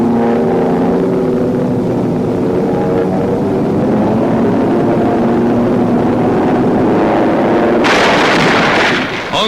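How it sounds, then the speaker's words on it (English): Propeller-driven WWII fighter planes flying escort alongside bombers high over Asia, a steady loud multi-engine drone with layered pulsing tones that holds throughout, ending in a brief burst of broadband noise. "Fighter planes escort the bombers as the squadron flies high over Asia."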